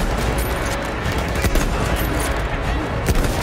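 Dense bursts of gunfire from the video game Battlefield 1, with rapid overlapping shots and explosions that form a loud continuous barrage.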